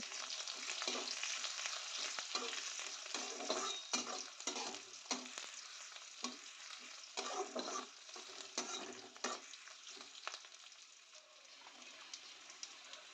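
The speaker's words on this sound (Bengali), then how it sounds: "এবার প্রথমে এর মধ্যে অ্যাড করছি কুচনো পেঁয়াজটা পেঁয়াজটা দিয়ে একটুখানি ভেজে নেব এটাকে" Chopped onion fries in oil for jhal suji, a faint but continuous crackling sizzle with soft stirring taps and scrapes, steady throughout and free of voices.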